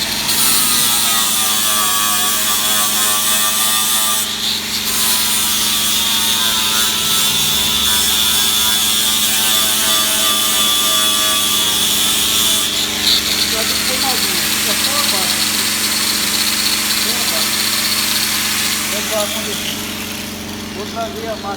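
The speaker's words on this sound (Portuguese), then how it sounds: "Eu vou passar a lixadeira" A handheld electric sander runs steadily on a damaged car body pillar during bodywork repair, a loud continuous whirring grind with shifting pitch that changes texture partway through, close and persistent throughout.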